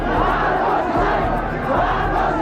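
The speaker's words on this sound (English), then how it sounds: "the people cheering them on with the slogans and victory signs of Aquino echoing behind them" A crowd in a Manila street cheers and chants slogans as tanks return to base, a dense, loud, continuous roar of many voices close by.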